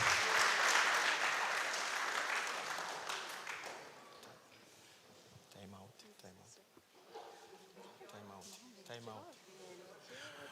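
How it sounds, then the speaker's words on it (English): Audience applause at a youth peace conference, loud at first and fading away over several seconds, followed by people talking. "On peut répéter nos applaudissements pour eux"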